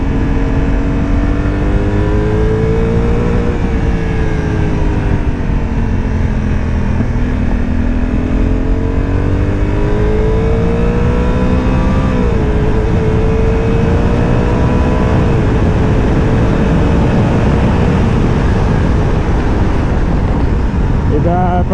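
A Honda NT 1100 DCT motorcycle engine pulls under acceleration, a loud continuous drone whose pitch rises and falls through gear changes amid heavy wind noise.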